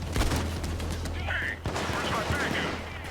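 Gunfire rattles in the video game Payday 2 as shots are aimed at a sniper, several sharp bursts close together with a trailing boom, while a voice talks underneath.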